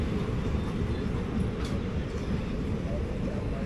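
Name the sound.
express train 22661 passing at high speed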